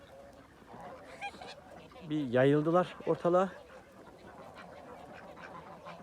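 Geese and ducks on a farm honk and quack in a short loud burst of calls, with someone speaking over a quiet outdoor background.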